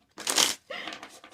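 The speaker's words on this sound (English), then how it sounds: "I should have just shuffled them all" Tarot cards being shuffled up close, a crisp riffling burst followed by softer sliding and flicking as the deck settles.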